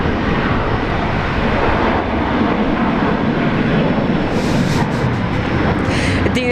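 A Jetstar Airbus A321 jet produces a continuous broad engine roar at an airport, steady and fairly loud throughout with little variation.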